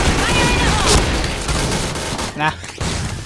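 Rapid gunfire from a favourite rifle in Point Blank rattles in quick bursts of shots, loud and close, with a player talking over the action and a brief pause near the end.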